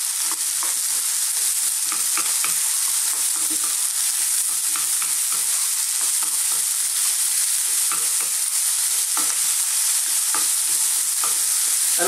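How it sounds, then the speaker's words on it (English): Mushroom chickpea curry cooks in a pan over fairly lively heat, a constant bright sizzle broken by frequent spoon scrapes and taps, loud and close throughout with no talking. "I'm simply going to cook this on a kind of fairly lively heat, just for about 2 to 3 minutes"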